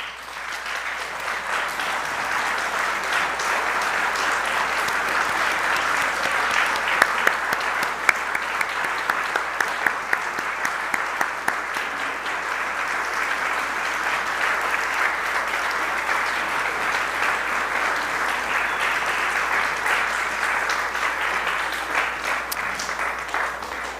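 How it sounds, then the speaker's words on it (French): A church congregation gives a long round of applause for the mothers in the assembly, steady, full clapping from many hands that fills the room for the whole stretch. "qu'on puisse applaudir les mères de notre assemblée une nouvelle fois."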